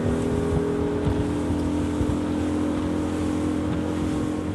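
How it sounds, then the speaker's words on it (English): Nuvola 23 motorboat running flat out near top speed, a steady loud engine drone with rushing water and wind noise throughout, no voices. "So let's step on the gas right up to the limit to find the top performance."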